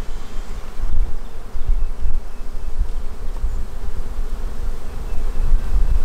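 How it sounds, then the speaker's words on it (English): Dense, continuous buzzing of many honeybees close by, a steady swarming hum with no talking. "Some bees fly and return back."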